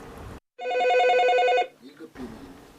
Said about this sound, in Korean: 쉴 새 없이 울려대는 전화기. 이렇게 많은 전화기가 울려대는 이곳은 어디일까요?